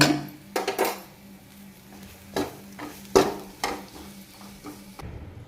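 Coconut and coriander powder being roasted in a pan, heard as a series of scraping, stirring knocks of a spoon against the pan at uneven intervals, close and moderately loud with no voices.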